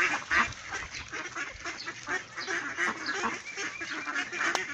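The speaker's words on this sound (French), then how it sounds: "il y a les colverts qui chantent à côté" Mallard ducks quack nearby in a steady, overlapping chorus of nasal calls, moderately loud throughout, with no voices.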